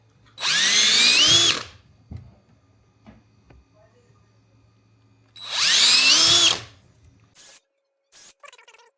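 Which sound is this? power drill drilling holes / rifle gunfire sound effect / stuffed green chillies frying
power drill drilling holes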